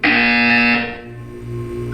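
Buzzer in the video game Portal 2 sounding one loud, harsh electronic tone that fades after about a second into a lower humming drone, with no voices.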